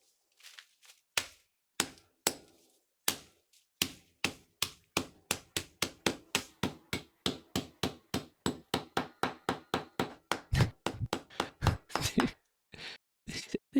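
A hammer smashes a chemical puck into powder, starting with a few spaced blows, then settling into a long run of steady, sharp, loud strikes and ending with a quick flurry.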